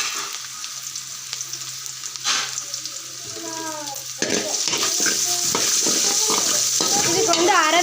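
Onions sauté in a pan for pasta with a steady hiss of sizzling, stirred with clinks and scrapes. A voice is heard briefly.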